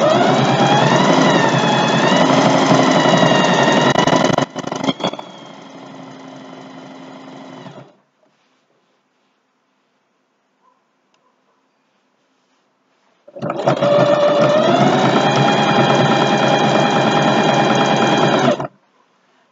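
A sewing machine runs a triple stitch on a jockstrap, buzzing in two long, loud bursts separated by a stretch of silence, with a brief hitch partway through the first run.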